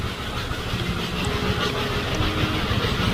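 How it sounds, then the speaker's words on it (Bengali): Continuous rumble and rattle of the Darjeeling toy train rolling past close by, steady and fairly loud throughout. "এখন টয় ট্রেন যাচ্ছে"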